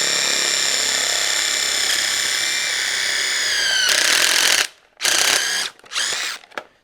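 A DeWalt cordless cutter whirs loudly and steadily as it cuts through packaging, then stops and restarts in a few short bursts with brief gaps near the end.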